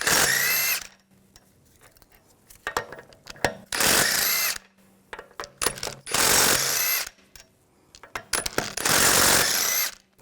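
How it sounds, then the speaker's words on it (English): A power tool with a 17mm socket removing the lug bolts from a rear wheel of a 2006–2010 BMW 550i, heard as several loud, close, whirring bursts of about a second each, with metallic clinks and handling noises in between. "I'm going to remove the wheel, use a 17mm socket,"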